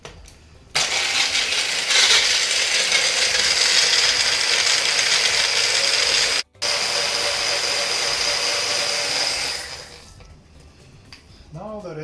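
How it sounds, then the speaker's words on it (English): A blender whirs loudly and steadily for about nine seconds, mixing pisco sour with lime juice, egg white and ice, cutting out briefly midway, then spinning down, with faint sounds afterward. "Now we just take it to the blender."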